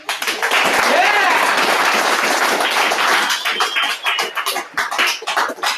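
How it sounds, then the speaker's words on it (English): Audience applause at a Narcotics Anonymous meeting, a dense, steady patter of many hands clapping close by for several seconds, thinning out toward the end with a few voices and whistles mixed in. "I didn't say that for the applause."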